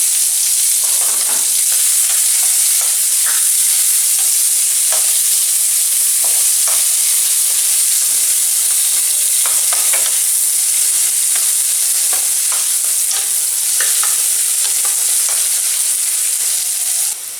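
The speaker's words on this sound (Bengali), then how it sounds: "এবার আমি পেঁয়াজ কুচিটা এর মধ্যে দিয়ে দিলাম।" Chopped onion dropped into hot oil with cardamom, cinnamon and bay leaf, frying with a loud, steady, close hiss and sizzle that runs the whole time, broken by occasional crackles and pops, no talk.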